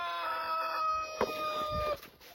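A Brahma hen of the partridge blue gold-laced variety calls in a hot coop, a single drawn-out fowl vocalization with a brief clucking break, close and fairly clear over a quiet background.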